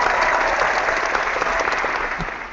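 Applause sound effect played from a soundboard during a live show, a steady dense wash of clapping and crowd noise lasting the whole stretch, loud and close with little talk over it.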